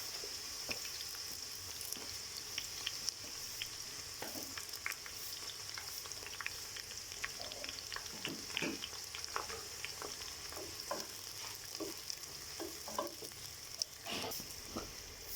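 Curry leaves frying in hot oil for street-style fried daal mash, a soft continuous sizzle with scattered crackles and pops, quiet, with no talking.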